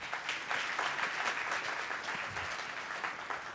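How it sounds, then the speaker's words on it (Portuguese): Applause from the audience at a legal symposium, a steady wash of many hands clapping that stays moderately distant and fairly quiet, gradually easing off toward the end. "peço uma salva de palmas para todos vocês que aqui estão presentes"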